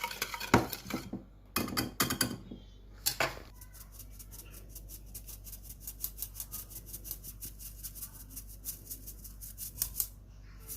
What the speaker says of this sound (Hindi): इसको हम तकरीबन 2 मिनट से 3 मिनट तक हमें इसको अच्छी तरह से मिक्स करते रहना है